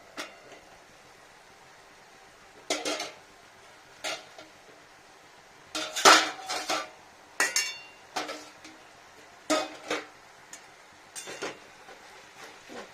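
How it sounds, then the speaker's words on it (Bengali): A lid lifted off a pot of cabbage curry brings a series of close metallic clinks and clatters, scattered irregular knocks of metal on metal in a quiet kitchen. "ঢাকাটা খুলি"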